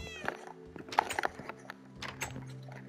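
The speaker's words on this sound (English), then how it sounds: "Another night with my kitty." A pet cat in Minecraft gives a few short, close meows over quiet game background sounds.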